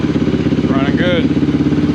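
A Honda XR400 motorcycle engine idles close by with a steady, throbbing, even pulse throughout, while a voice speaks briefly over it.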